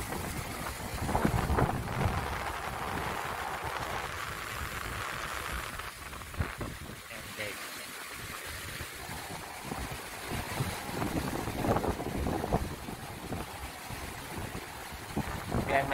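Strong waves wash along a shore by a bayview hotel in Atimonan, Quezon, in a continuous broad rush that swells and eases over several seconds. Wind buffets the microphone, and people talk faintly at moments.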